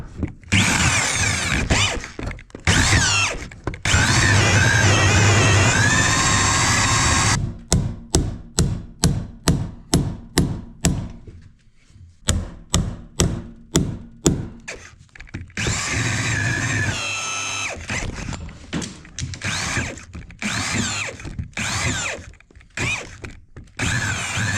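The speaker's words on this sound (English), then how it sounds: "We still have like a massive log corner to saw through." A power saw cutting through a massive log corner on a 128-year-old log cabin under renovation: long loud whining cuts, then a run of rapid rhythmic bursts, a brief lull, and more short cutting bursts nearby.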